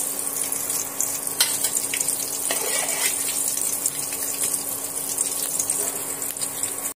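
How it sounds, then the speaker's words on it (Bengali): Marinated fish frying in hot oil gives a continuous, fairly loud hiss of sizzling that holds steady for the whole stretch, with a few faint crackles and no voices over it. "তেলের মধ্যে বাকি যে মাছগুলো ম্যারিনেট করা আছে, মাছগুলো আমি তেলের মধ্যে দিয়ে সুন্দর করে আবারও সমস্ত মাছ ভেজে নেব।"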